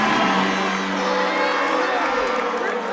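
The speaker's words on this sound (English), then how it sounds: "the crowd definitely has a strong reaction towards Demetrius Caleb" Basketball crowd at a college game roaring and cheering around a free throw, a dense sustained wall of voices and shouts filling the arena, with a commentator talking over it.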